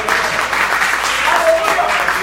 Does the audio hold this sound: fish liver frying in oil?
no